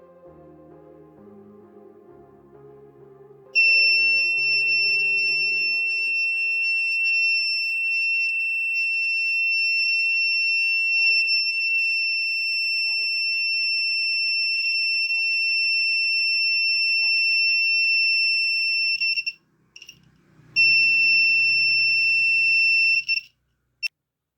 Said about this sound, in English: Let us trip the alarm again.